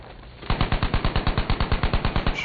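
A sustained burst of video game machine gun fire starts after a short pause, about twenty rounds in a steady rapid rhythm, loud and close.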